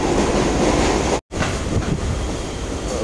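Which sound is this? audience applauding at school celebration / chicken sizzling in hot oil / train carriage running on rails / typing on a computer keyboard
train carriage running on rails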